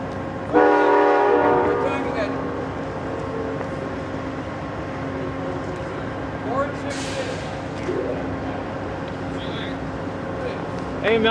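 An Amtrak Wolverine train on the Michigan line sounds its horn in a loud sustained blast, then rumbles steadily past up close, with brief voices and further horn notes near the end.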